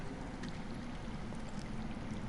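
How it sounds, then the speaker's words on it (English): Water flows underground in a Game of Thrones video game, a steady, low rushing and gurgling flow that is continuous and fairly faint, with no talk over it. "I hear water. From underground."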